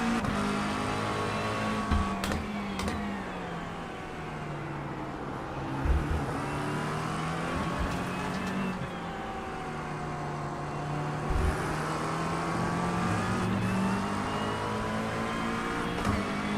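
Race car engines at Sebring in the iRacing sim, a field made up mostly of McLarens with a few Porsches, Fords and a Lamborghini, rev and shift steadily close by, with pitch sweeps on acceleration and brief bursts as cars pass.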